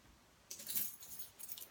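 Car keys jangle in a short, faint metallic rattle that starts suddenly and fades out over about a second, heard alone.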